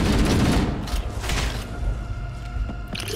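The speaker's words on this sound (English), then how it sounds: "I like how the explosion doesn't blow up the glass" Heavy explosions and rapid gunfire in the Library level of Halo: Combat Evolved, played co-op: a loud booming blast up front, then a dense, continuous fusillade of shots and rumbling that stays loud throughout.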